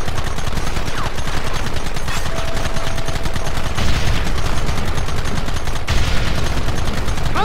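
Rapid, sustained gunfire from Red Dead Redemption fills the scene, dense bursts of rifle and machine-gun shots cracking continuously at high loudness with no gaps.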